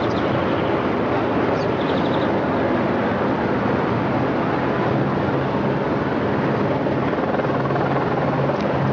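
A Rede Globo news helicopter sends out a constant, loud, broadband rotor and engine roar that stays unbroken throughout, with no voices.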